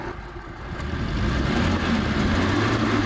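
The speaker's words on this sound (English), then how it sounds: "The engine seems to rev up great." A Citroen DS engine idles roughly, then rises into a sustained rev, a low rumbling engine note heard close and fairly loud with no voices.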